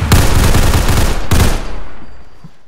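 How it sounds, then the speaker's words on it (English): Rapid bursts of loud, close gunfire during a robbery, two dense volleys of overlapping shots, the second starting just over a second after the first, then dying away into a fading echo. "Dispatch, we have shots fired"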